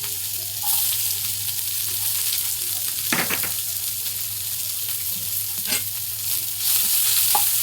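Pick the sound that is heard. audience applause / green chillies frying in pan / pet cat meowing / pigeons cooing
green chillies frying in pan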